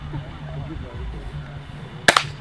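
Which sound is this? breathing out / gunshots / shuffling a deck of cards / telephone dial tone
gunshots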